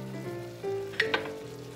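Tuna pasta sauce simmers in a pan, giving a steady low sizzle and bubble with a couple of sharp pops or stirring clinks partway through. It sounds close and there is no talking.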